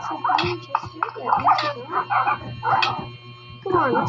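A dog gives a rapid series of short, close barks and yips in uneven bursts over a constant low electrical hum.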